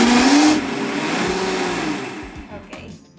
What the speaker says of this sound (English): I'm gonna add all my leek sauce into the blender.